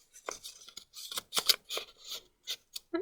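Folded origami paper for a traditional thirsty bird model being pressed flat, giving a series of short, close crisp rustles and creasing scrapes in uneven bursts, with no talk.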